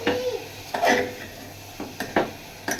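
Vegetables being stirred in a hot pan, with a run of scraping and clinking strokes of a spoon or spatula against metal, irregular and close, over a faint background hum.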